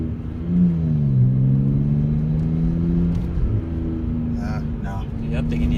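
A BMW 330xi E90 with its muffler deleted sends out a steady, loud exhaust drone and rumble as it pulls through gears, the pitch sliding up and settling, while people talk over it.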